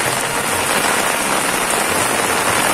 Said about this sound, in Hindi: पूरा एक महीने बाद आज वापिस बारिश आई है